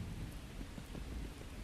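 Heavy rain pours steadily in the survival video game Miscreated on Orca Island, a dense, constant hiss with low rumbling underneath, no voices.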